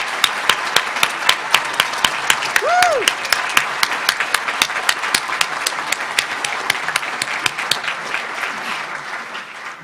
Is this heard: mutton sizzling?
no